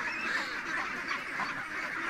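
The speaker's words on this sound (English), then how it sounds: "the ducks are in here" Ducks kept penned in an enclosure quack in a dense, continuous chorus, close and fairly loud, with no talking.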